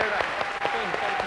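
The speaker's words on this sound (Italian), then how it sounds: "carissimo pubblico, fate un applauso a loro!" A studio audience on an Italian TV game show applauds a municipal brass band from Falzes, a steady, even clapping beneath voices calling out and talking over it.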